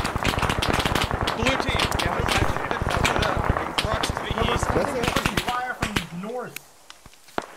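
Dense, continuous bursts of airsoft gunfire rattle through a milsim game, rapid overlapping shots near and far with shouted voices over them, thinning out toward the end.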